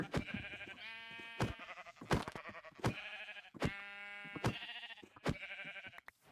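Repeated Minecraft sheep bleats, about eight wavering calls in steady succession with short gaps, close and fairly loud, sounding like game audio.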